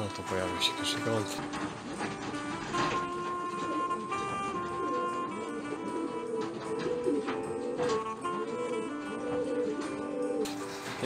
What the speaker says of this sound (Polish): No to pojawił się pierwszy gołąb.